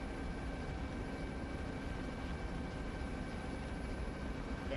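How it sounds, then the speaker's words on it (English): A helicopter in the military game Arma 3 drones steadily and loudly throughout, a constant dense rotor and engine roar filling the scene. "I couldn't entirely hear over the goddamn helicopter drowning me out."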